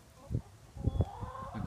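Soft, low clucks from chickens come in a few short bursts, faint and close by.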